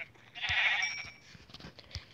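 Sheep bleating in a video game, one drawn-out nasal bleat near the start followed by a few soft clicks and small game noises, with no talking.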